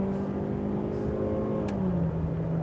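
A Mazda CX-5 with a 2.0 petrol engine, just back from a 120,000 km major service, accelerates to overtake. A steady, droning engine hum with a smooth tonal whine carries through continuously.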